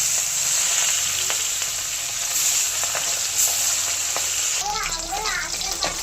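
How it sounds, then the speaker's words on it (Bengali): Fish sizzle and crackle steadily in hot oil in a pan, loud and close, with children's voices breaking in near the end. "এবার মাছগুলো ভেজে নেব"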